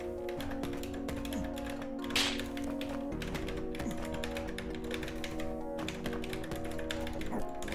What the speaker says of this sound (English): Fingers dance awkwardly on the keyboard.